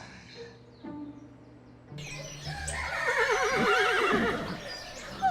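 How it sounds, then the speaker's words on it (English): Horses neigh and whinny in a stable, a quiet stretch giving way to several loud, wavering calls that overlap and build toward the end, with faint bird chirps in the background. "I am going to feed and turn out the horses"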